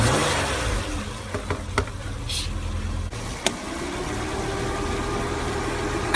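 A car engine with a suspected alternator fault runs steadily and rises into revving as the gas is pressed, a continuous mid-low drone with a few faint clicks, no voices over it.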